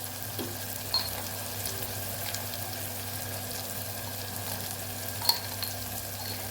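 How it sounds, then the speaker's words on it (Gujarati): A soft, steady sizzle of turmeric, coriander-cumin powder and salt sautéing with tomatoes in a pan, with a faint hum underneath and a couple of light clinks. "સરસ મસાલો આપણે સાતડી લઈશું"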